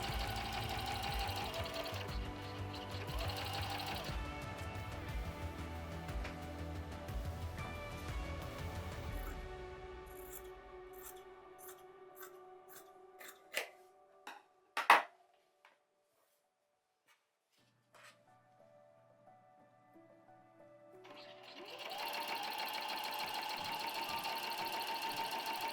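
A sewing machine stitches fabric for a beginner's appliqué bag, running steadily at first, then stopping for several sparse clicks and knocks and a near-silent pause before the stitching resumes near the end.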